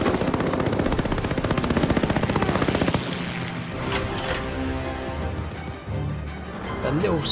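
Call of Duty Vanguard gameplay set in the Battle of Midway, with a rapid, loud burst of continuous machine-gun fire followed by scattered shots and explosions, and a player talking over it.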